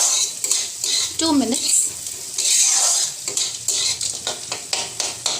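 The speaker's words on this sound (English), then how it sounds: "then we have to stir it nicely" Onions and cashew nuts for paneer butter masala are stirred in a cooking pan, with sizzling frying and frequent metallic spoon scrapes and clinks in an irregular rhythm as a person briefly speaks over it.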